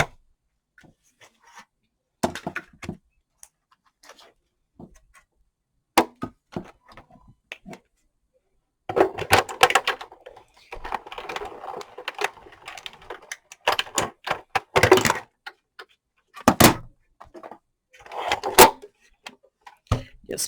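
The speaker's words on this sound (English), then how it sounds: "I'm going to go ahead and run it through the cuddle bug." A Cuttlebug embossing machine is cranked with an embossing folder inside, giving bursts of clicking, grinding mechanical noise in several spells, close by and fairly loud, with quiet gaps between.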